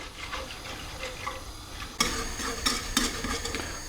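A spoon stirs milk in a pot on the stove as it heats toward a simmer, giving soft continuous scraping and swirling with a few louder clinks against the pan, close and alone.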